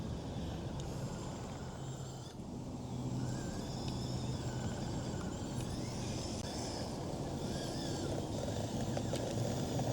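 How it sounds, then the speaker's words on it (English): Dirt bikes ripping along a trail, heard as a continuous dense engine roar with shifting revving tones, steady and fairly loud throughout. "Got some dirt bikes ripping up in the background."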